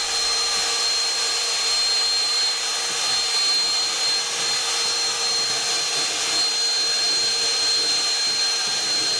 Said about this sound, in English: will it even have the power to vacuum it all up?